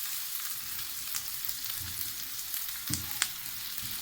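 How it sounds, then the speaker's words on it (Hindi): Egg brain masala frying with tomatoes and green chillies, a soft, steady sizzle with occasional spoon scrapes and light knocks against the pan. "टमाटरों के साथ हम और हरी मिर्चों के साथ इसको अच्छे से हम भूनेंगे।"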